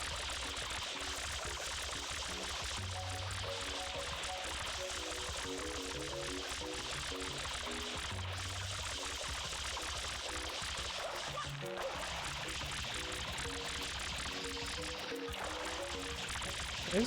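Steady water spraying from the water pack in Super Mario Sunshine, a continuous hissing gush running the full length under game music, with short pauses and no clear talk.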